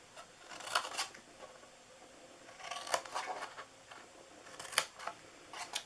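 Scissors snip through a paper gift box template in short close bursts, a few separate cuts with quiet pauses between them.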